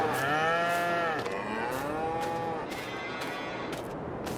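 Cows in Farming Simulator 22 mooing in a pasture, several long drawn-out lowing calls overlapping one after another, close and fairly loud, with no talk over them.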